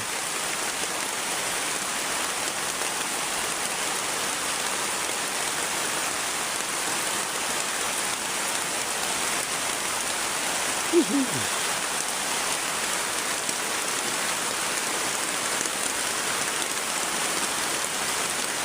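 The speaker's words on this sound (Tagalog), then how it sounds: "Grabing lakas ng ulan." Heavy rain pours steadily in a dense, continuous hiss with no pauses, close and loud throughout, one brief faint chirp partway through.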